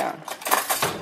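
Cutlery clinks and rattles as forks and spoons are handled at a dining table during a lasagna meal, a few quick close metallic taps within about a second.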